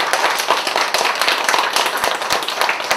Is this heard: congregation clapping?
yes